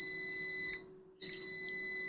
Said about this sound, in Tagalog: May nagwawalang beep-beep dito